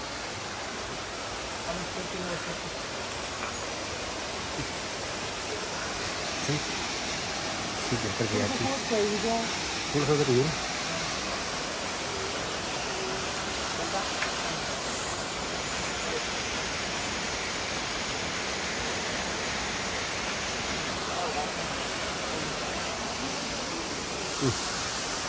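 A mountain stream in a Lamjung, Nepal village flows with a steady, loud broadband rush that fills the whole stretch, while voices talk briefly over it.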